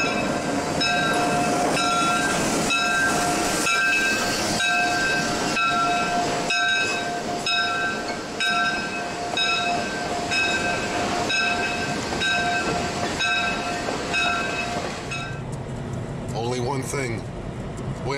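The Western Maryland Big Six steam locomotive rolls past with steady loud rumbling, rhythmic clanking and a sustained whistle-like tone, the noise continuous for most of the stretch before easing off near the end.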